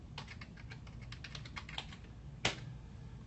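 Fast keystrokes clatter on a computer keyboard, quiet and close, a burst of typing followed by one sharper key press near the end, with no talking.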